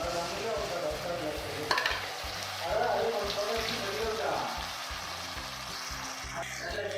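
Brinjal tomato curry with tamarind juice bubbles and sizzles steadily in a pan, with repeated close stirring scrapes and a low rhythmic thumping underneath.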